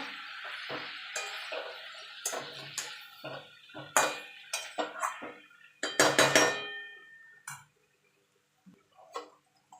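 Spices being stirred together in a cooking pan for a spinach and fish-head chhyachra, giving a run of irregular metallic clinks and scrapes of utensil against pan, close and moderately loud, fading out near the end.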